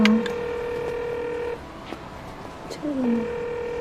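Telephone keypad dialing tones sound as a call is placed in a crime drama scene: a few distinct beeps in short sequence, with a brief spoken question between them.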